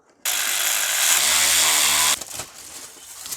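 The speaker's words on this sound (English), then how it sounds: "Tighten the bolts." Power tool tightening thermostat housing bolts on a Mercedes W220 S320 during a thermostat replacement: a loud, steady whirring burst lasting about two seconds, then a few short clicks and rattles as it stops.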